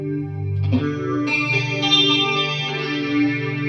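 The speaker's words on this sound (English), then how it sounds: "Let's add the stereo chorus now." Clean 80s-style electric guitar through AmpliTube 5 with stereo chorus added, sustained chords shimmering and swirling, played alone at moderate level with a brightening lift partway through.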